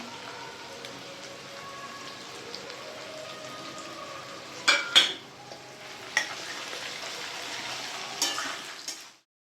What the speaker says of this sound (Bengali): সবজিগুলো 3-4 মিনিট ভালো করে ভেজে নেব।